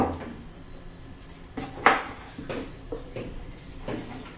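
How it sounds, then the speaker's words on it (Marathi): Five or six tomatoes being finely chopped with a knife for red tomato chutney: a handful of soft, irregular knife taps on a board, faint and spaced apart, with no talking. "आता मी असे सर्व टोमॅटो ह्या पद्धतीने चिरून घेते"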